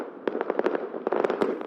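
Fireworks let off from undisclosed spots in Newcastle during a pandemic-restricted celebration, a rapid volley of sharp crackling bangs and pops, fairly loud and continuous with no voices.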